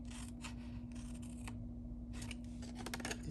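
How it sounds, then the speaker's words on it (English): Scissors snipping paper for a heart-shaped box craft: several quiet, close, crisp cuts come in short bursts separated by pauses, with a low steady hum underneath. "And we're going to go ahead and cut all of this off"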